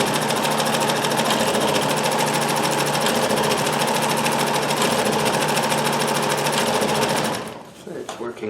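A Dressmaker 2402 sewing machine stitches a cam pattern, its close, loud, fast mechanical whir running steady and unbroken for about seven seconds before cutting off abruptly.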